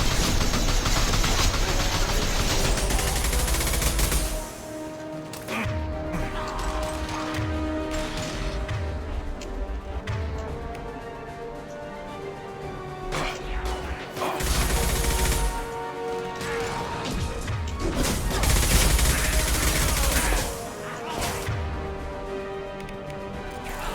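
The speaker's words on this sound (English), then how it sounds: "Firing a high impact shot." High impact gunshots in Mass Effect 2 ring out amid dense, loud combat noise and music, several heavy shots bursting over a sustained roaring background throughout.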